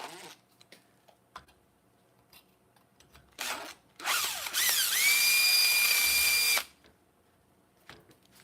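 Power drill enlarging a hole in an RC car rollcage part: a few short bursts of the motor, then a loud sustained whine of about two seconds nearby, with quiet handling noises around it.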